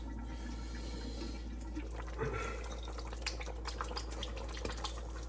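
Fish sauce poured into an oxtail potjie: faint liquid trickles and small drips over a constant low hum, with a brief splash near the middle.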